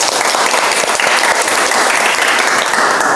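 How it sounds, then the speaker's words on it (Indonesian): A classroom of vocational high school students applauds, a loud, dense burst of clapping that holds steady and close throughout. "tepuk tangan untuk kalian semuanya"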